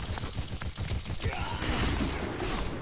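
Rapid pistol fire from an Overwatch match rattles out in a dense, loud burst of closely spaced shots, with game effects and a faint voice underneath.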